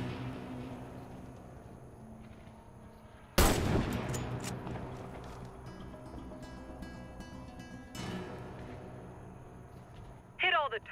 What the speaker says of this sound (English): Hit all the targets with your sniper rifle.